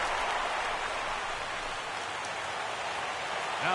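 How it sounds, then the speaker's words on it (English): Heavy rain falls in the baseball video game MLB The Show 16, a steady, dense hiss of downpour held at an even, moderate level for the whole stretch with no talk over it. "Well, that rain is really coming down now"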